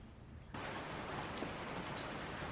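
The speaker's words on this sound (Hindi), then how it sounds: "और लीजिए, आज की बारिश भी स्टार्ट हो गई है।" Rain starts suddenly and then falls steadily, a soft, even, continuous hiss of drops on surfaces that keeps a constant level after the onset, with no voices.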